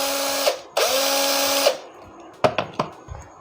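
A Makita 6270D 12-volt cordless drill on a modified 4.0 Ah battery whirs in two sustained high-pitched runs, then gives a few short trigger blips as it spins up and down.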